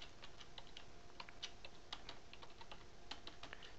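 Very faint, quick typing on a computer keyboard as a root password is entered, a steady run of light clicks with a few firmer taps, alone without any talking.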